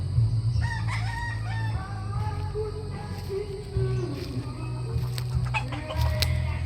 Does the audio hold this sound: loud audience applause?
no